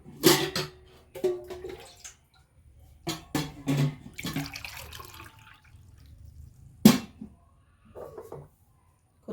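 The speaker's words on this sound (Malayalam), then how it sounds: "എന്നിട്ട് കുറച്ച് വെള്ളം ഒഴിച്ച് കൊടുക്കുക" Water poured into a glass with soaked kaskas while making nannari sarbath: several short splashing pours, close and separated by quiet gaps.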